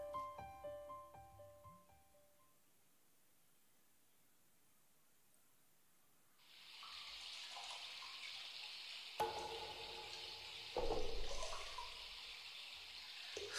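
Hot water runs into a bathtub in the game SeaBed, a steady hissing rush starting after a quiet lull, with a few brief knocks and splashes over it, fairly close and moderately loud.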